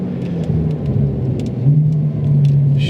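A Stage 4+ tuned Porsche 992 Turbo S in Sport Plus mode makes a second-gear roll-on, its flat-six engine giving a steady, droning growl that builds slightly in pitch, heard from inside the car with no talking.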